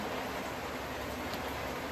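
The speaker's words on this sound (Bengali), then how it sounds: "বাইরে বৃষ্টি হচ্ছে প্রচন্ড" Heavy rain falling outdoors comes through as a faint, steady, even wash of noise with no distinct drops and no other sounds.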